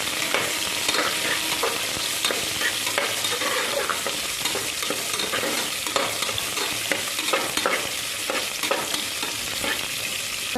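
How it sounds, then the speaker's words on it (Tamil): Onion and green chillies sautéing in a pan for mushroom biryani, with a continuous loud sizzle and rapid, constant stirring scrapes throughout. "பச்சை மிளகாய் 2, ஒரு பெரிய சைஸ் வெங்காயம். இப்போ நல்லா வதக்கிக்கிட்டோம்."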